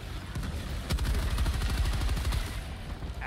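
Rapid gunfire in the shooter game Helldivers 2, a dense burst of repeated shots lasting a couple of seconds, loud and close over a rumbling battle background.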